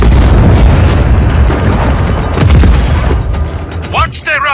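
Cannon blasts and gunfire from the video game Just Cause 4, heard as a loud, dense barrage of booms and mechanical clatter that continues throughout, with a voice briefly at the end.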